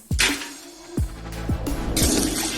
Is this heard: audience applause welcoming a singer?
no